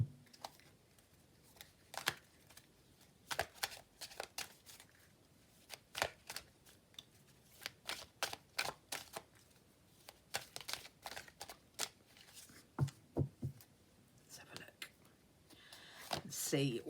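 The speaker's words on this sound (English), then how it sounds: "I'm just going to pop down an oracle card to go with these." Oracle cards being shuffled and drawn by hand, a dense run of quick, close papery flicks and riffles that come in bursts, with soft handling noises in between.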